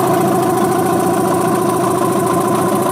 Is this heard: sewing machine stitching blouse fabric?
no